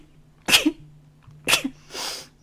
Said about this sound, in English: sorry, we got the sneeze